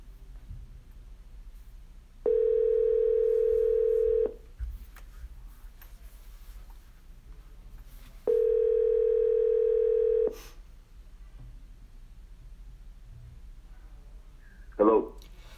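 Two long, steady ringback tones sound on an outgoing telephone call to a guest, each about two seconds long and evenly spaced, over quiet line hiss and faint room noise, ending with a short sharp clatter.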